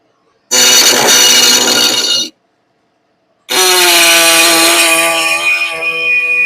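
A power saw cuts through metal rocker panel stock on a 1969 Camaro in two loud, sustained bursts separated by a short pause, the high whining tone shifting as the blade bites.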